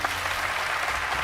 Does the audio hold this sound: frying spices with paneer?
no